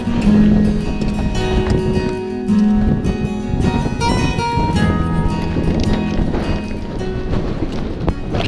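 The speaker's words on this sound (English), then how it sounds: "we are right back into the teeth of this wind" Strong wind buffets the microphone on the summit of Sale Fell, a loud, continuous roaring rush with gusty surges and a few faint tonal undertones throughout.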